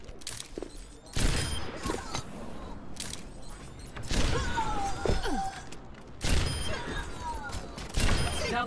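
Rapid gunfire bursts in a video game, several loud volleys and thuds recurring through the clip with a constant busy game background and no speech.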